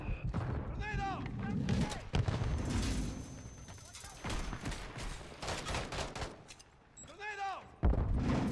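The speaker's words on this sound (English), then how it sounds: "Grenade out." Gunfire with grenade blasts in a military shooter game, heard as dense rattling shots and heavy booms that run continuously, with short voice callouts from the game breaking in.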